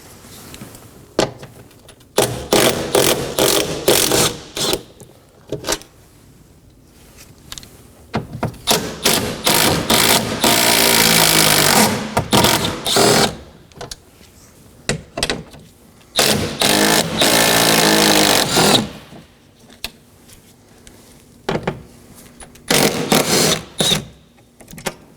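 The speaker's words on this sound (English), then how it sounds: "Now I'm going to go ahead and remove all 6 10mm fasteners." Power tool removing 10mm bolts and nuts from a Chevrolet door panel, repeated bursts of loud whirring ratchet-driver noise, some short and some lasting several seconds, separated by quiet gaps.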